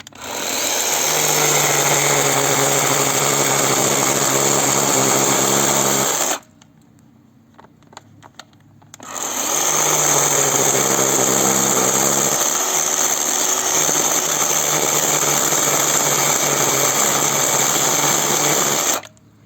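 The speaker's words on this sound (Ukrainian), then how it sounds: "Тобто пила ріже дуже гарно." A WORCRAFT CGC-S20LiA cordless chainsaw cuts with a loud, steady motor whine that runs about six seconds, stops for a short quiet gap, then starts again for a longer stretch.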